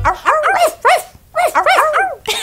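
Several children imitate dog barking with their voices, a jumble of yelping woofs in three quick bursts separated by brief pauses, loud and close.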